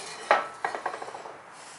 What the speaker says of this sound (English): I'm just going to take the rest of this tape off since we don't need this on there